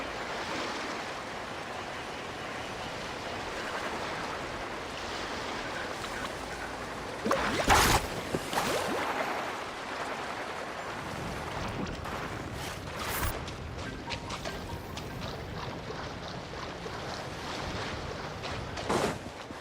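Boat carving through ocean waves in a survival video game, a steady broadband wash of water and wind with a louder splashing surge near the middle and smaller bursts later.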